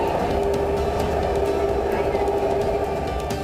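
Inside a Rapid Rail commuter train running from Sahibabad, a steady, loud rolling rumble carries a faint high whine for a few seconds, with no distinct voices.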